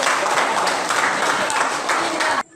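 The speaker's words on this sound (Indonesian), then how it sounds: "Oke, tepuk tangan." A classroom of students claps their hands together on a teacher's cue, a brief burst of brisk, dense clapping at close range that cuts off abruptly at the end.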